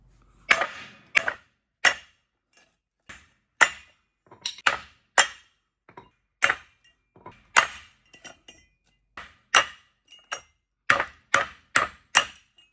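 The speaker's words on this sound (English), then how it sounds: "I'm just hitting them right with a hammer without putting a nut on top of them" Hammer blows knocking lug studs out of a 1-inch wheel spacer on a 7.3 OBS truck: about twenty sharp metallic strikes at an irregular pace, each ringing briefly with no talking.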